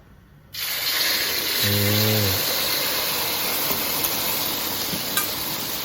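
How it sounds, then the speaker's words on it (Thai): Egg poured into hot oil for frying cha-om omelette, a sudden loud sizzle bursting on and holding steady and close, with a brief tonal whine early on and no talk. "เราก็จะเอาไข่ลงไปทอดนะครับ"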